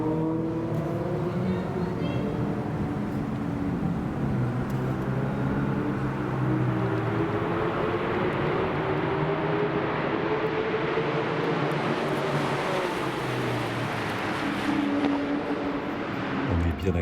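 A reprogrammed BMW M4 racing against three Porsches, with loud sustained engine roar and shifting harmonics as the cars accelerate, continuous throughout with no pauses.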